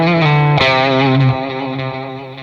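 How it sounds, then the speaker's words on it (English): Sustained electric guitar notes washed in delay and reverb, a chord change midway, with echoing repeats and a spacious tail fading out. "here's the delay and reverb together"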